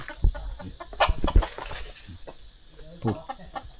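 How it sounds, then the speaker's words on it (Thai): Chickens, including jungle fowl, cluck in scattered bursts with a few sharp thumps and rustles at a forest campsite, close by and fairly quiet, with a voice faintly present. "ทีมงานเขาเอาไก่มาเอาไก่ป่ามาเอาไก่มาต้อ"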